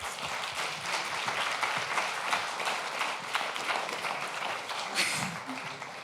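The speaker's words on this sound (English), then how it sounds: "And I would say another round of applause for Serena, please." An audience at a talk on the hidden costs of AI gives a steady round of applause. The clapping is dense and continuous and holds at a moderate level, with no speech above it.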